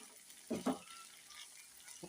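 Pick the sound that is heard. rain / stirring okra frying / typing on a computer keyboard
stirring okra frying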